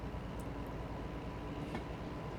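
A train departing in the Derail Valley railway simulator gives a steady, dense rumble of rolling wagons with faint metallic clicks, close and continuous with no voices.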